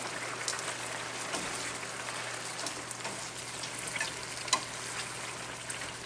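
Chicken pieces sizzle steadily in a hot pan after being flipped, a continuous close frying crackle with a few brief louder pops and no talking.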